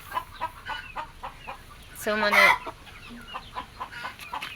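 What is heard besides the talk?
silkie and leghorn chickens clucking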